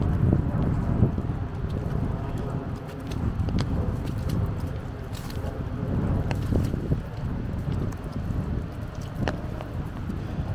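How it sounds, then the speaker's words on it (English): Steady wind gusting outdoors along a snowy street in Brooklyn's Bay Ridge, a continuous low rumble with buffeting on the microphone and faint scattered thumps, no talk. "The wind has picked up too a bit, so the wind is on my back though"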